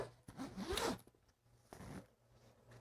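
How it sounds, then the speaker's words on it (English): A zipper on a K&F Concept camera backpack is pulled open in two close strokes, a long rasping zip followed by a shorter one, with no talking. "unzipping it"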